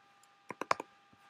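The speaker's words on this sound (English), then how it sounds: "I'm going to double click this." Computer mouse double-clicked, with a pair of quick crisp clicks followed by another close pair, faint and near in a quiet room.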